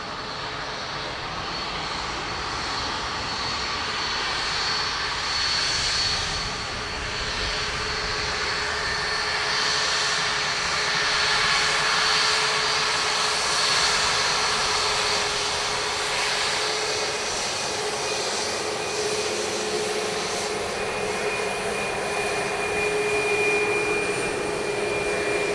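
A Ryanair jet departing Dublin Airport roars steadily throughout, a loud, sustained engine drone with a whining tone that swells slightly as it climbs away, without any voices.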